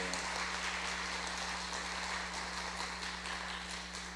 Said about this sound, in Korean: 잠깐 우리 박수로 환영하겠습니다.